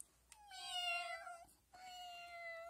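A human voice imitates a tiny kitten with two drawn-out, high meows, the first longer than the second, heard alone and fairly close in a quiet room.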